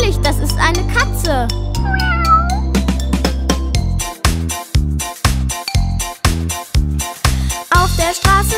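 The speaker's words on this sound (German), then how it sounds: "Natürlich, das ist eine Katze." A cat meows several times in drawn-out, wavering cries, followed by a steady rhythmic musical beat.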